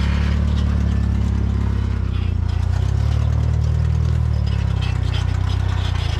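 A rock-crawling truck on 42-inch tires runs with a loud, close, steady engine rumble and rattling clatter throughout, never dropping away.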